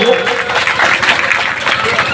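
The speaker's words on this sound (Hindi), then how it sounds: "ताली से एक बार जोरदार स्वागत होना चाहिए।" A crowd claps loudly in welcome at a martyrdom-day commemoration for Jagdev Prasad Babu in Khajedih, with dense, steady applause that fills the whole moment.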